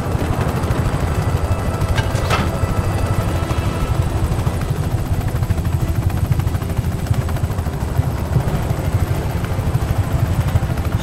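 A helicopter in Just Cause 3 thumps along with loud, steady rotor pulses and engine drone, close and continuous, with a brief metallic clatter early on.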